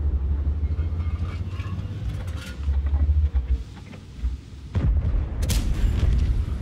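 Tank cannon shots from the World of Tanks video game, with a Super Conqueror tank firing, sound as deep booming blasts over a constant low engine rumble. Two heavy thuds stand out, and no voice is heard.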